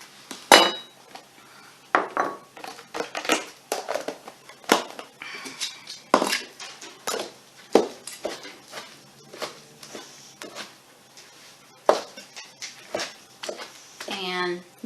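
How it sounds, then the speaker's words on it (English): A knife chops drained peppers on a cutting board in a home kitchen for a shrimp quesadilla, giving irregular sharp knocks spread across the span, close and fairly quiet, with a person talking between cuts. "Now I'm going to get my drained peppers. And chop these as well."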